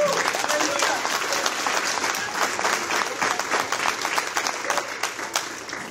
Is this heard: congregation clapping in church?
yes